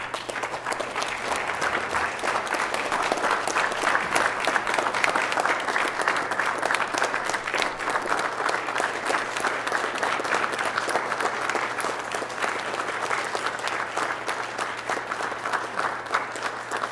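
Audience applause at a mayor and council meeting honoring Officer Lambert, steady dense clapping from a crowd that holds at an even level for the full stretch with no voices over it.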